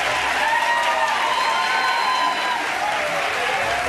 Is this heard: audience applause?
yes